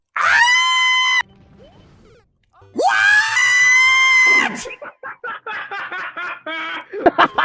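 A cartoon dog character from Road Rovers lets out two long, loud, sustained screams, followed by a run of rapid snickering, panting laughter.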